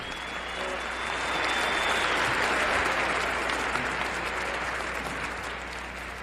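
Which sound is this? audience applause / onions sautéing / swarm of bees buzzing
audience applause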